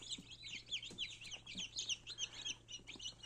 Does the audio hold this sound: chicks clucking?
yes